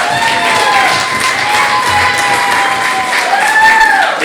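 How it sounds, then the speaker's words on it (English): An audience claps and cheers as a band is introduced on stage, a loud, dense, continuous burst of applause with a few higher shouts mixed in. "so give them a round of applause."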